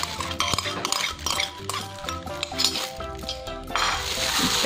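A spoon or utensil works through shrimp and pork dumpling filling mixed with egg in a bowl, giving close, steady wet stirring with light clinks, while music plays underneath throughout.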